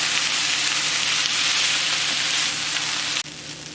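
Soaked rice noodles sizzle loudly in a hot pan while being stirred, a steady, close frying hiss that drops off abruptly near the end.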